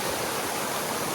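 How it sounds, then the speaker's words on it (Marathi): A small waterfall beside village farm fields rushes in a steady, dense wash of falling water, close and continuous, with no voices. "आता आम्ही आलोय छोट्या वॉटरफॉल कडे"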